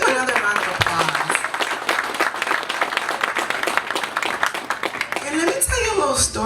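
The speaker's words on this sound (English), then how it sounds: "Let's give him another round of applause." An audience at a Haitian community event in Indiana breaks into steady applause for an honoree, with a dense wash of many hands clapping continuously and voices mixed in toward the end.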